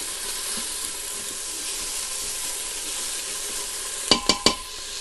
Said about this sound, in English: And then we're gonna stir a little bit.